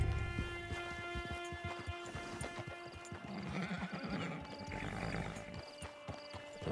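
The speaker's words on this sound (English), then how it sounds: "Get your horse." A horse whinnies loudly in Red Dead Redemption 2 amid clip-clopping hooves and a low rumbling roar, close and continuous, with no talk.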